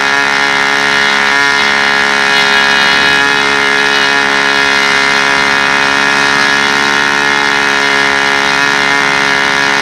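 A model airplane powered by a Super Tiger 60 glow engine drones loudly and continuously, a steady buzzing tone with slight pitch wavering and no talking.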